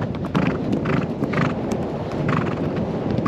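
A ridden horse clip-clops at a steady pace, the hoofbeats loud and close over gusting wind noise, with no voices.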